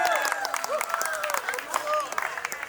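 Applause from the audience at a wedding sangeet after a fun dance performance, a steady wash of clapping with light cheering and crowd murmur mixed through it.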